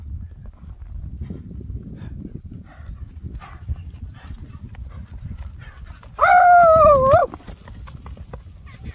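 Horses being shown for sale, with soft hoof clip-clops and low shuffling through the background, then a loud, close whinny lasting about a second near the end.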